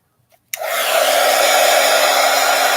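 A hair dryer switches on abruptly after a small click and blows steadily and loudly at close range, drying crayon and water-soluble artwork, its whooshing airflow and motor whine continuing without a break.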